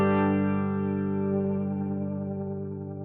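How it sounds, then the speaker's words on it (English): A guitar chord rings through a Yamaha RA-200 rotary speaker effect on a Helix processor, its sustained tone swirling with a warbling modulation that shifts speed as it decays. "listen to how it transitions from slow to fast and back"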